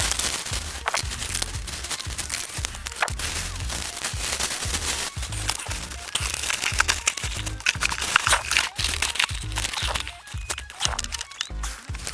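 Gifts being unpacked from a plastic shopping bag give rapid, close crinkling and rustling with sharp crackles and crunches, repeating busily throughout.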